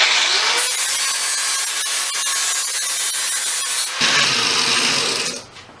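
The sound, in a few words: angle grinder smoothing welds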